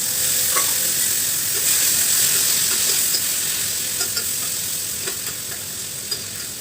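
Gima greens and poppy seeds fry in mustard oil with a steady, close sizzle, while a spatula scrapes and stirs the pan in occasional light clicks and no voices come through.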